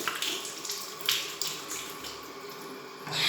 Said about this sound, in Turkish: Böyle temizledikten sonra yüzümü yıkıyorum.